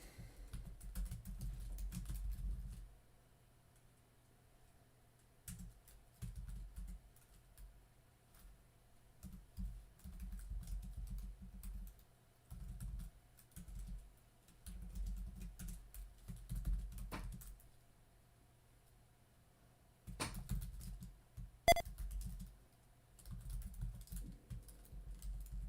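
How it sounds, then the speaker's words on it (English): Computer keyboard typing into a chat box during a day-trading live stream, coming in steady bursts of rapid key clicks with short pauses, close and fairly quiet, with no talking. "I'm going to write these out in the chat box for you guys"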